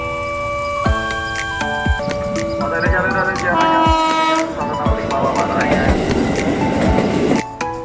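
A commuter train at Tenjo railway station in Bogor, West Java, sounds loud sustained horn blasts over rumbling wheels and carriage noise, close by, with a few voices in the background.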